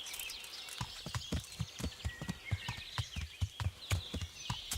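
Horse hooves clip-clopping in Kingdom Come: Deliverance, a steady run of close, regular hoofbeats with faint birdsong in the background and no talking.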